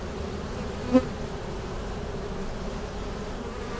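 Honey bees from a strong swarm colony drone in a dense, continuous buzz near the hive during an inspection, with one brief click partway through.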